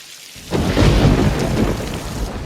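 Heavy rain pours steadily while a deep rumble of thunder rolls in after a brief quiet start, loud and close, filling the whole scene.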